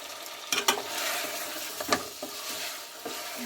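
Chicken curry with meat masala is stirred in a frying pan, with several distinct scraping strokes over a soft, quiet sizzle and no voices.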